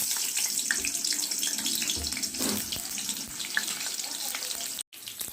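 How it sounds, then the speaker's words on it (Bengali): Potatoes fry in oil on a gas stove with a continuous close, bright hiss and crackle, a few soft clinks and knocks mixed in and a brief dropout near the end. "এবার আলুটা ভেজে নেব।"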